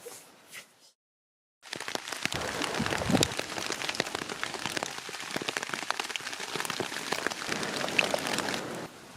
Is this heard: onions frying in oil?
no